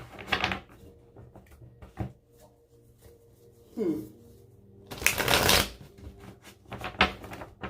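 Tarot cards being shuffled in bursts of riffling and flicking, with a loud stretch of rapid shuffling in the middle; a voice is faint in the background between bursts.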